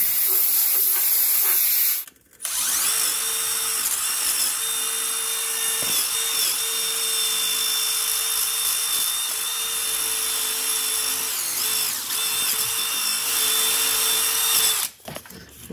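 A coating is sprayed onto the pipes of an iced-over refrigeration cooler, a loud, close, continuous hiss that breaks off briefly near the start and again near the end.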